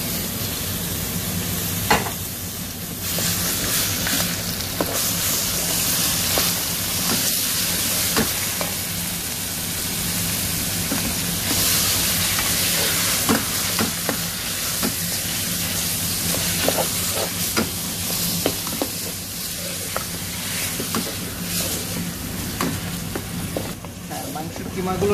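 Minced meat frying with browned vegetables for Bolognese ragù, a loud continuous sizzle and hiss in the pan, with intermittent stirring scrapes throughout.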